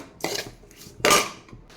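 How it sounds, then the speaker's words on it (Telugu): A spoon mixes bottle gourd curry with milk and sugar in a pan, giving two distinct scraping, clinking strokes against the metal, close and fairly loud with short pauses between. "ఇప్పుడు ఈ కర్రీని బాగా మిక్స్ చేసుకోవాలి."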